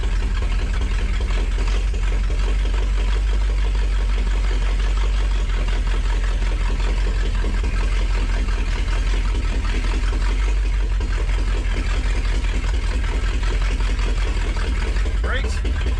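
An abandoned big block 4x4 Ford engine runs at a steady, rough idle, a loud continuous low rumble with a constant broadband drone throughout.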